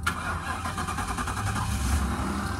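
A 2011 Ford Crown Victoria Police Interceptor engine turns over and settles into a steady, close rumble that stays level throughout, with no voices.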